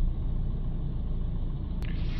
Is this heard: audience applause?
no